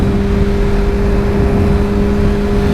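A Kawasaki Ninja ZX-6R sport bike cruising at over 50 mph, a steady engine hum heavily mixed with loud, constant wind rush.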